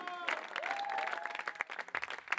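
Crowd clapping at a festive gathering, uneven bursts that start under a sustained whistle-like tone and grow choppier toward the end, fairly faint overall.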